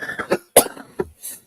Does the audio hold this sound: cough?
yes